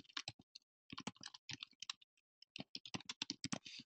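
A search phrase is typed on a computer keyboard: quick clusters of crisp key clicks in irregular bursts with short pauses between them, close and clear in a quiet room.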